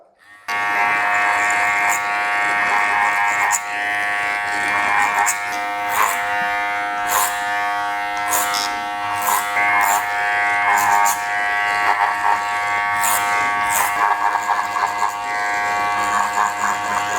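Electric hair clippers buzzing continuously while blending a fade haircut, a loud, close, steady motor hum that varies slightly as the blades move through the hair.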